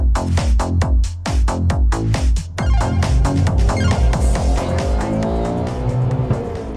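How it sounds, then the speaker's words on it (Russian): A 1994–1998 Subaru Legacy turbo engine revved hard against the limiter, loud and close, bouncing off the cutoff in rapid repeated stutters before settling into a sustained high drone with the rev-limiter chatter continuing. "Звуки отсечки, ребят, а?"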